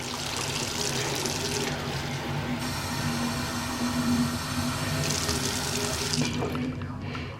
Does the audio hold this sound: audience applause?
no